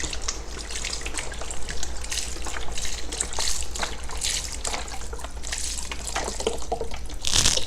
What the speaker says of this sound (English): I'm going to add chicken broth,